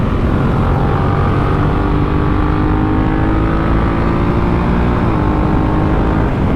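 Honda Africa Twin CRF1000L police motorcycle with a DCT gearbox, heard while riding: a loud, steady engine drone with wind, dipping briefly in pitch near the end as it shifts.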